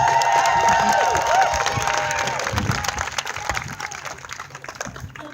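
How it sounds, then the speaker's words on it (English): Crowd at an outdoor march claps and cheers loudly, with whoops and shouts over dense applause that gradually thins and fades across several seconds. "Can everybody give a round of applause for her?"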